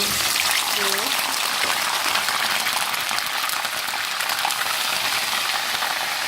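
Ginger, garlic and green chili paste sizzles in half a cup of hot olive oil for a mutton karahi, a loud, steady crackling fry that continues without pause.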